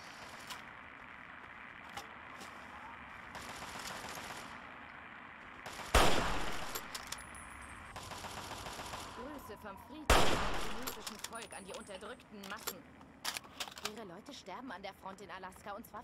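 Fallout 3 gunfire: two loud sharp blasts stand out, followed by scattered rapid shots and clatter over a steady background of game noise and voices.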